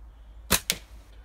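Two quick sharp snaps close together come from a catapult slingshot with flat elastic bands as its shot strikes a catch box. Both are loud and near, against a faint low hum, with no talk.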